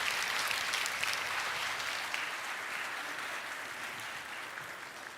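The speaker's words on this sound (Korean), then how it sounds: "큰 박수로 환영하겠습니다" A church congregation at an early-morning prayer service gives a full round of applause, a dense wash of clapping that starts strong and slowly thins and fades.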